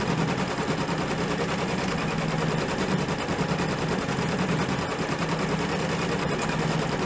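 Sewing machine stitching the outline of an embroidered stained glass stocking, a steady fast mechanical chatter that runs continuously and evenly, close and moderately loud.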